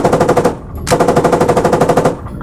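Turret machine gun in a video game fires two long, rapid automatic bursts with a brief pause between them, loud and close, with no talk over it.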